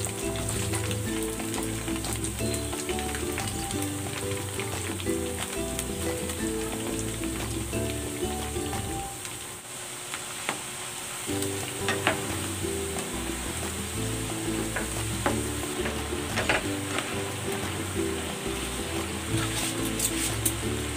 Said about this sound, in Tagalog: Nagpainit na ako ng mantika, magpiprito na ako.